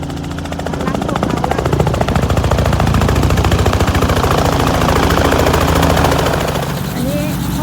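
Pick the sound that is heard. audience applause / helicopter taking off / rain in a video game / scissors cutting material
helicopter taking off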